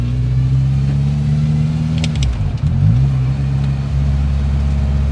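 A car engine runs loud and close, droning unevenly as it struggles to hold idle, its note dipping and wavering midway before steadying again.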